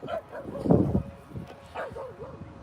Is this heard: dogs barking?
yes